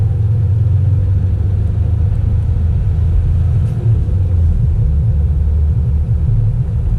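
A Corvette at speed on a race track during a performance driving school session, its engine giving a loud, steady, low rumble that holds throughout without any talk over it.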